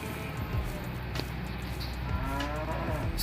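Dairy cows on a farm in the mobile game Farming Simulator 23, repeated moos over a steady low ambient bed, moderately close with no talking.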